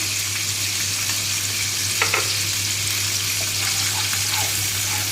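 Cumin and ginger paste fries in a pan with a little water, making a loud, dense, continuous sizzle with a faint clink partway through and a steady hum beneath, up close with no voices.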